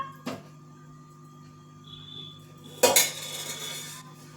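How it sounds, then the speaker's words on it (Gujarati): A metal spoon clinks against a pan on a gas stove while two spoonfuls of ghee are added for a custard bread dessert. One light clink, then a louder metallic knock with a brief rattle, over a quiet kitchen hum. "પેનમાં આપણે 2 ચમચી ઘી એડ કરીશું."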